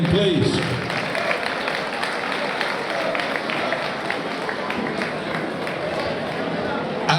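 Dense, steady crowd applause fills a kickboxing event hall after an amateur K1 lightweight bout, a continuous wash of many hands clapping with a faint voice over it.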